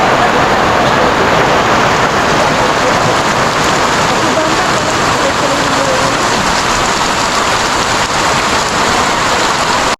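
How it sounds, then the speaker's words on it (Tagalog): Steady, heavy rain pouring down without a break, a dense hiss of drops striking surfaces, close and loud throughout. "Ulan."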